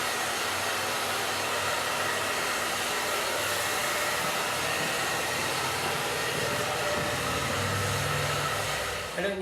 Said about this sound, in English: making sure your blow dry temperature is at hot